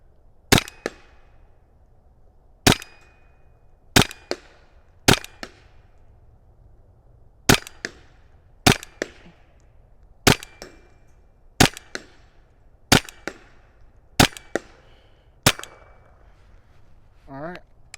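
Valken M17 less-lethal pistol firing Grimburg HP68 rounds at a target about 70 feet away: eleven sharp, loud cracks at irregular intervals of one to two seconds, each with a short ringing tail.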